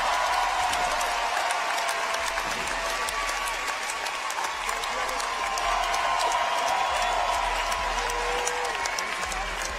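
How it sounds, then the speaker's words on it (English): Crowd applause and cheering at the CrossFit Games final event as second place is announced, a dense sustained roar of clapping filling the arena, with an announcer's voice over it. "Give Patrick Vellner a big round of applause for second place."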